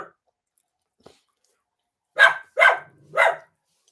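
A dog barks three times, loud and close, in quick succession after a near-silent stretch with a couple of faint taps.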